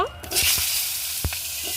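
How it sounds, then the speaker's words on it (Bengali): Cut potatoes sizzle in hot oil in a wok, the oil already seasoned with cumin seeds; a steady bright hiss runs throughout with a couple of short knocks, no voices. "কড়াইতে তেল দিয়ে দিয়েছি জিরে ফোড়ন দিয়েছি এবার ফুলকপি আলুটা কেটে রেখেছি আমি আলুটা আগে ভেজে নেব"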